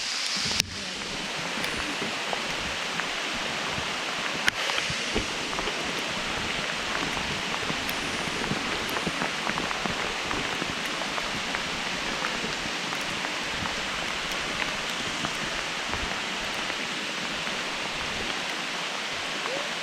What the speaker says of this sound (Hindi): अचानक से ये ओले पड़ने लगे, बहुत ही तेज़ ज़बरदस्त हैवी फॉल हो रहे हैं यहाँ पर